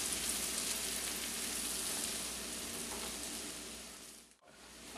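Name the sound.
sauteing shallots and garlic in butter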